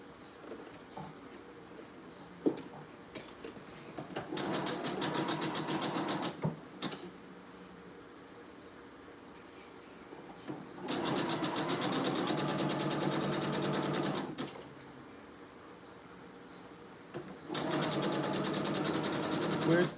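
A sewing machine stitches a zigzag seam while a shirt is reworked into a blouse, in several bursts of fast, steady mechanical whirring and clatter with quiet pauses between them. Each run is close and clear, and a voice talks softly in the gaps.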